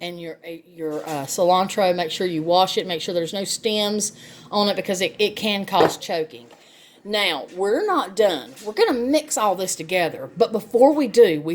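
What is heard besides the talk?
No everyday noises stand out.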